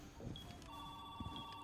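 Telephone ringing faintly during a Rainbow Six Siege match, a thin electronic ringtone with brief bell-like tones over low background noise, quiet and distant.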